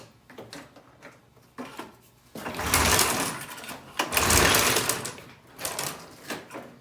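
The engine of a Formula III, with a newly fitted carburetor, cranks over cold without choke. Quiet fiddling gives way to two loud, rough bursts of running, each lasting a second or more, then it settles to a lower rumble.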